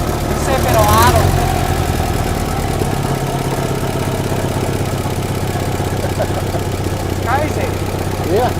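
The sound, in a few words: 1964 International Harvester Scout engine idling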